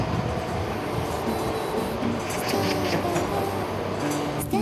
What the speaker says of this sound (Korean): 다음 날 아침 우리는 하동으로 향하는 기차에 올랐다.